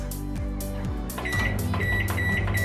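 Microwave oven starting up, with beeps and a rising mechanical whir that settles into a steady hum, heard nearby with no voices.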